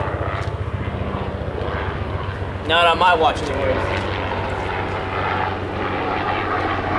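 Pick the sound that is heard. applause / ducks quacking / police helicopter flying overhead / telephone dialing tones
police helicopter flying overhead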